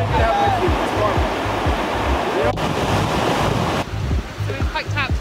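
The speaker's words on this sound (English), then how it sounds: "So we've hiked out to this waterfall" A waterfall in the Canadian wilderness, reached on a hike, roars steadily and loudly nearby as a dense, continuous rush of falling water with wind buffeting the microphone.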